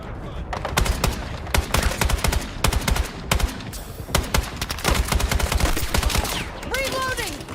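Video game machine gun fire, rapid broadband bursts of shots hammering through most of the stretch, loud and close, with shouted voices and a rising whistling sound near the end.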